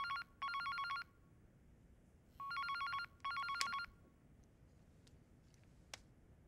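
An indoor telephone rings in two short bursts of electronic trilling, with a longer pair of rings a moment later, then falls quiet apart from a faint click. No one speaks.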